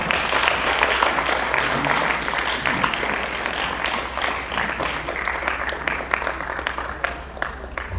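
Applause from a group at a youth mentoring program runs steadily for several seconds, dense and loud at first, then thinning into scattered sharper claps toward the end, with faint voices mixed in.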